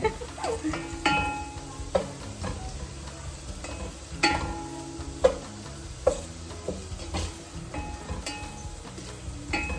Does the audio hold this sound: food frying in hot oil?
yes